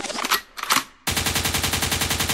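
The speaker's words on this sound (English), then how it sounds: "A gunshot means forward." Rapid automatic gunfire erupts as a loud, steady burst of closely spaced shots, following a couple of brief swells of other sound, used as a fast-forward cue in a Black Hills Track Classic race recap.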